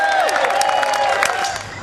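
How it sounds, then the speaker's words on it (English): An audience at an organizing event applauds and cheers to welcome a speaker to the stage, a loud, dense burst of clapping with voices mixed in across the short stretch. "So if I can get a big round of applause"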